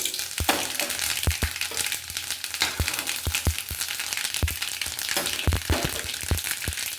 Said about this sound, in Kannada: ಸಾಸಿವೆ, ಜೀರಿಗೆ, ಸೋಂಪು ಇಷ್ಟು ಕೂಡ ಹಾಕ್ಕೊಳ್ತೀನಿ ಒಗ್ಗರಣೆಗೆ